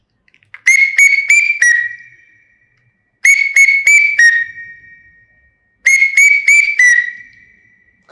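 A whistled imitation of an Indian cuckoo call repeated three times: each a quick burst of four sharp rising notes ending in a long held tone, with pauses between.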